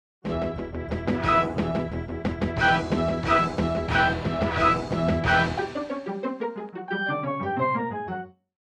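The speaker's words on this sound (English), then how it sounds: "A standard MIDI player sounds like this" A MIDI music file rendered by a standard MIDI player: a busy, synthetic multi-instrument passage with rhythmic hits and chords, thinning into a plucked melodic run before stopping abruptly, fairly quiet and without voices.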